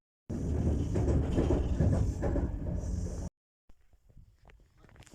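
A passenger train running toward its terminus at Penzance, heard from inside as a steady loud rumble that cuts off abruptly after three seconds, followed by faint quiet room sounds.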